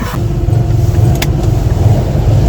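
A Moskvich 2140 car engine runs at a steady idle after stalling, its low rumbling throb continuous and close, with a brief higher whir partway through and no talking.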